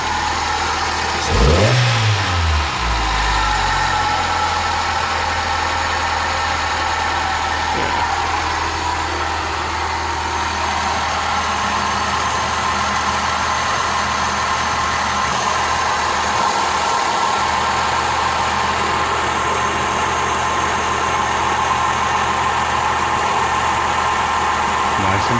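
A Toyota Carina engine idling steadily just after an oil and filter service, a constant loud mid-pitched hum that holds evenly throughout, with a brief rise in revs near the start and no talking.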